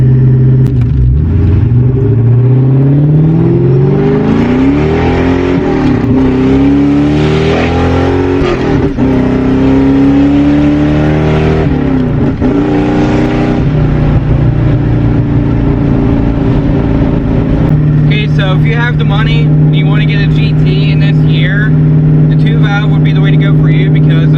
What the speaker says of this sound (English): still think they're one of the best sounding V8 Mustangs out there